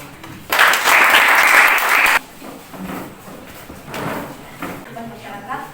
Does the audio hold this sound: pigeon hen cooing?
no